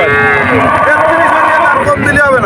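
Cows and calves mooing loudly and repeatedly in the busy Shahpur cattle market, with murmuring voices and crowd noise close by throughout.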